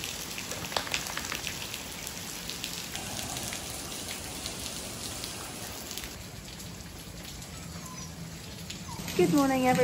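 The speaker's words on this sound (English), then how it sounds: "the rain is going to pass and the sun is going to come out" Rain falls steadily in a dense, even patter on surfaces close by, with birds chirping faintly in the background and a brief louder chirp near the end.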